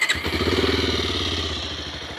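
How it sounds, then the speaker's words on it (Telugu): A 2026 Bajaj Pulsar 180 motorcycle engine cranks and catches, then settles into a rhythmic, throbbing idle from the exhaust, close and steady. "ఇప్పుడు ఒకసారి బండిని స్టార్ట్ చేసి ఎగ్జాస్ట్ నోట్ విందాము"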